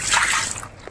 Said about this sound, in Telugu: నీళ్ళు పోస్తుండు